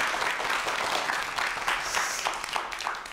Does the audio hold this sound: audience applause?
yes